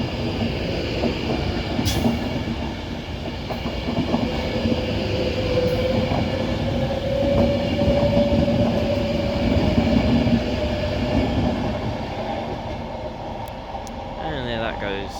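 A Class 390 passenger train departs Oxenholme on the West Coast Main Line, rumbling past and pulling away, wheels clattering over rail joints with a faint squeal, steady and fairly close.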